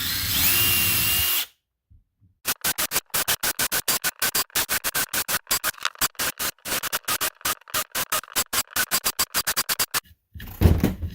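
A power drill bores a 1/8 inch hole in a wooden box, a loud burst of drilling followed by a long run of rapid, evenly spaced pulses close to the microphone, then another short burst at the end.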